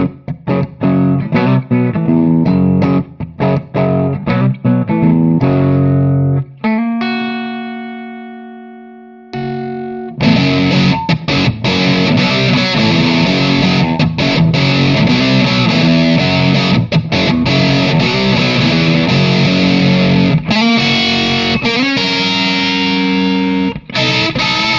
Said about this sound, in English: So let's start with a Les Paul and check out a basic distortion setting with the flat mids.